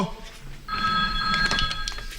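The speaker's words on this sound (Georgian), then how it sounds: "ტელეფონს უპასუხოსო" An indoor telephone bell rings in a trilling burst with repeated bright tones, fairly close, while people talk faintly in the background of a domestic TV-series scene.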